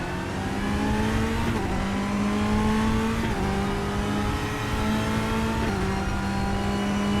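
In the RaceRoom sim racing game, a race car engine revs hard and loud, rising in pitch and dropping sharply at each gear change, about four upshifts in a repeating climb-and-drop pattern.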